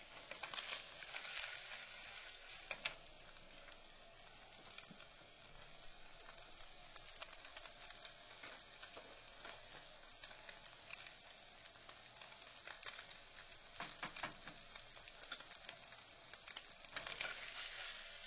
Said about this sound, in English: Keep making sure your tilapia is not sticking to the pan and wait for it to cook thoroughly